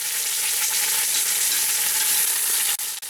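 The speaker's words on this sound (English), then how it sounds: "When it comes to searing meat," A roast sears in a hot cast iron Dutch oven, giving a loud, steady sizzle and crackle of fat that runs without a break, with a couple of faint knocks near the end.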